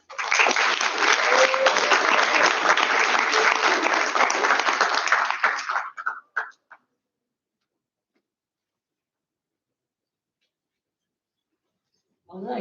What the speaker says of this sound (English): I want a round of applause for our partners and sponsors once again